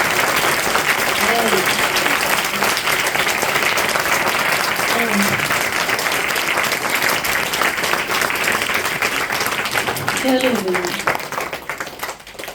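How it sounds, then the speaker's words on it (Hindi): Sustained applause from a devotional gathering's audience fills nearly the whole stretch, dense steady clapping at full strength that tapers slightly at the end, with brief voices faintly audible beneath it. "एक बार जोर से तालियां हो जाए।"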